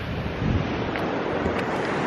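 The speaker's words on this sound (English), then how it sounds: "there are waves breaking on this reef out here" Sea waves break on an offshore reef in the choppy North Sea off the Yorkshire coast, a steady broadband wash of surf with heavy wind buffeting the microphone throughout, loud and continuous with no talk.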